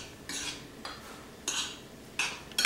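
Beans stirred into vegetables in a skillet: a utensil scrapes and clinks against the pan in four short strokes, close and clear, with no talking.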